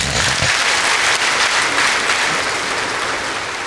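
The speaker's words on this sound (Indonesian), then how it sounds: "Dokter Supriyadi dan istri Dokter Supriyadi, mari kita tepuk tangan." A church congregation applauds during a worship service, steady dense clapping filling the hall for the whole stretch, loud and sustained without talk.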